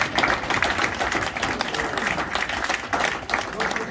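Audience clapping at a sports club's annual general meeting during an award presentation for the youth team, a steady broadband patter of many hands filling the room, loud and continuous.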